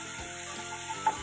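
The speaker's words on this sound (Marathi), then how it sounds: "ही पेस्ट इथे मी घालून घेणार आहे. तेलावर अर्धा मिनिट हे छान असं परतून घ्यायचं आहे." Chili and garlic paste frying in hot oil, a steady soft sizzle close by with a faint scrape near the end, no talking.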